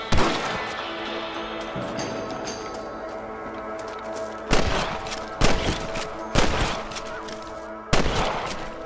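Rifle shots in Red Dead Redemption crack out in a steady volley, with several louder, sharper blasts spaced a second or so apart toward the end, set against a busy game soundscape.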